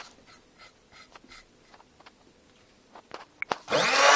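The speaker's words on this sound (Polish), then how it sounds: "Teraz ponownie to blenderujemy." An electric blender whirs up suddenly to a loud, close roar while mixing a chocolate shake, following a few seconds of scattered kitchen clinks and taps with no talking.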